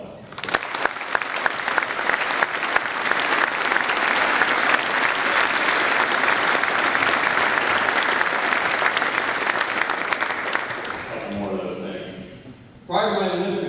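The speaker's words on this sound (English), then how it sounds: "please join me in a round of applause" Sustained audience applause from people seated in school bleachers, dense and steady for about eleven seconds before fading, after which a voice begins speaking close by.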